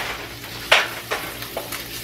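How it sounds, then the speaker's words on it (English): Bacon cooks in a pan with a soft steady sizzle, broken by a few sharp pops and spatters, close up with no talk. "this bacon ain't cooking like it's supposed to be cooking"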